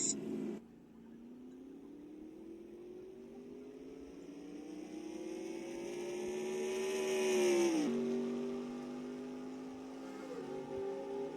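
Race cars on the back straightaway at Canadian Tire Motorsport Park (CTMP) during a stock car race, a strong engine note rising steadily in pitch as the cars approach, peaking, then dropping sharply as they pass.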